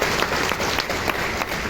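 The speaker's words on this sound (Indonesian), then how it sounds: "Ayo tepuk tangan buat Tuhan kita Yesus" A congregation at an Easter church service claps in a brief, continuous burst of applause, loud and dense throughout.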